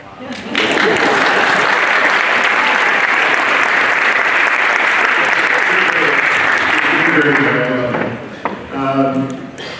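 Audience applause fills a high school senior sports banquet, a dense, loud burst of clapping that holds for about eight seconds and then fades as a voice begins speaking.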